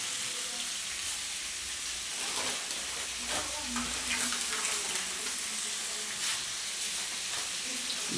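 Food frying in a pan while being stirred after salt is added, a steady close sizzle with soft scraping stirs throughout, moderately loud and continuous.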